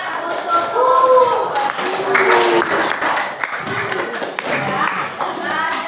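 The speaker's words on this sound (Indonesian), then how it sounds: "silakan kita berikan tepuk tangan untuk" A group claps in a steady patter for several seconds, with voices murmuring over the applause.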